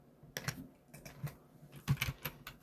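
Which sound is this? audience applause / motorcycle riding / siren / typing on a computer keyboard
typing on a computer keyboard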